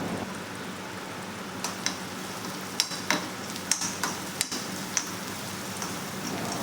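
Garlic and curry leaves are stirred and fried in a pan for a Kerala prawn roast, giving a steady, soft sizzle broken by scattered sharp spoon scrapes and clicks against the pan, with no talking.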